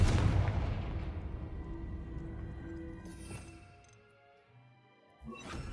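A Confringo fire spell blasting in the game Hogwarts Legacy: a loud, booming burst that decays into a rumbling tail, then a second sharp impact near the end.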